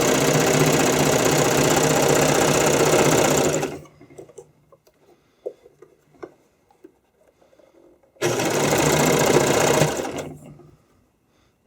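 An electric sewing machine stitches fabric for skate covers in two loud, close, steady runs, a long burst and then a shorter one. The gap between them holds quiet handling noises and faint clicks.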